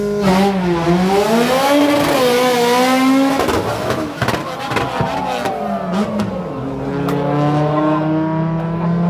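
Black Honda drag cars on full slicks launch at an outdoor drag day, with loud engines revving and climbing through gears in rising and falling sweeps, one car pulling hard close by as another runs alongside.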